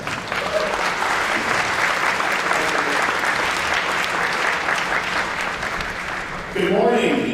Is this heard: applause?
yes